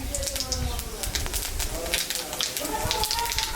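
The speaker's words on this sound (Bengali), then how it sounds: "এখানে শুকনো লঙ্কা আর কালো জিরা সম্বরা দিয়ে দিলাম।" Dried chillies and nigella seeds sizzling in hot oil left from frying fish, a continuous close hiss and crackle under a speaking voice.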